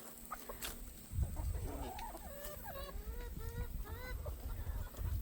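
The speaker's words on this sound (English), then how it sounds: "these chickens," Chickens cluck and squawk in a hen house, a busy run of short calls and squabbling notes at close range over low rustling and background hum.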